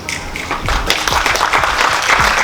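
An audience at an opening address for a research programme breaks into applause, loud, close and sustained, with sharp individual claps standing out in an irregular rhythm across the whole stretch.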